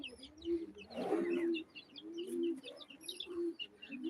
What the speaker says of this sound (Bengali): আমাদের এই যে কক মুরগির বাচ্চা আছে